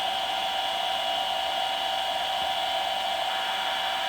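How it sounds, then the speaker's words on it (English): A blow dryer runs with a constant, even whooshing hiss, close and unbroken for several seconds, drying a homemade Mod Podge transfer on copy paper. "Sometimes I'll put it underneath the blow dryer for a few moments just to speed things along"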